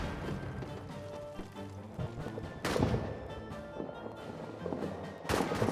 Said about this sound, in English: Oh, here come the artillery.